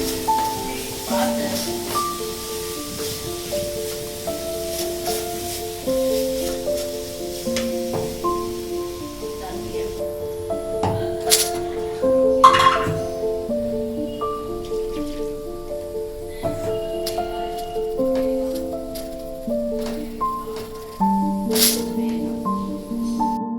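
Cubed potatoes sauté with spices in a pan for cauliflower gravy, giving a steady sizzle with scattered spoon scrapes, while melodic background music plays throughout.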